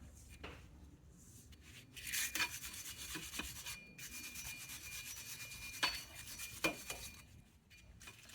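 Scrubbing and rasping on the rusty, corroded hub of a Tesla Model S front brake, heard close in uneven strokes with a few sharper scrapes.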